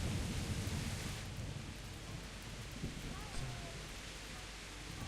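Heavy downpour in the medieval video game Kingdom Come: Deliverance, a dense continuous hiss of rain with a low rumbling undertone, steady and enveloping throughout, with no voices.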